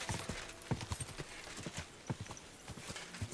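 Horse hooves clip-clop in the Kingdom Come Deliverance 2 game, an uneven series of close, distinct hoofbeats across a few seconds, alone without talk.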